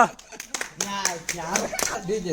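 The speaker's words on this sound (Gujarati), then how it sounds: "તાળીઓ પાડો" A few scattered, sharp hand claps from people ring out amid lively voices talking over them.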